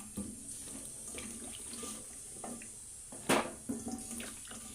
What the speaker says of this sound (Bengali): জলটা গরম হয়ে গেছে, এই জলের মধ্যে দিয়ে দেবো আলু আর বেগুন